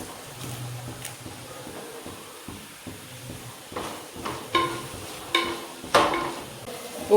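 Onion, tomato and curry leaves frying in a pan for a chicken curry, with a steady low sizzle broken by stirring scrapes and a few louder clatters toward the end; no voices.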